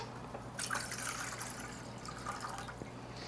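Water pours into a pot as two cups are measured for cooking rice, a soft running splash and trickle over low kitchen hum.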